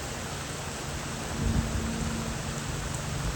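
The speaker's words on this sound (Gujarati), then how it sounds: "સતત કાલે સાંજે છે ને 12 ઇંચનું આવતું હતું તો 12 ઇંચ વરસાદ થઈ ગયો." Heavy monsoon rain in a village pouring down steadily, a dense, loud hiss of falling water with a brief low rumble partway through.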